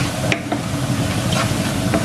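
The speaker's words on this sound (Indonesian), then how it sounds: "Kita aduk cepat ya." Flour being stirred quickly into a sautéed, wilting mixture in a frying pan for crispy potato croquettes, a steady scraping stir over a continuous sizzle, with a few light utensil clicks close by.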